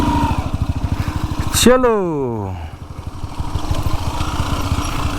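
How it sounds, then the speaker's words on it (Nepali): A motorcycle ridden on a jungle track, its engine thrumming in a steady close pulse with a rising and falling rev in the middle, while someone speaks briefly over it. "के गर्नु त अब बाइकै जङ्गलमा कुदाउने छ"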